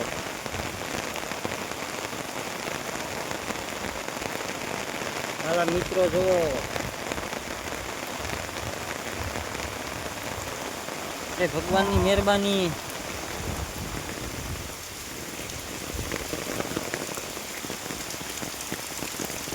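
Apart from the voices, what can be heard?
heavy rain falling on surfaces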